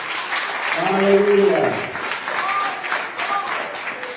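A church congregation claps and applauds during a worship service, a dense wash of hands with a raised voice speaking over the start, then the clapping carries on steadily.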